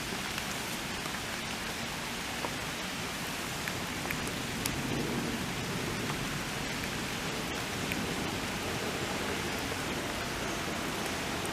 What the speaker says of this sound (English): It's just standing here in the rain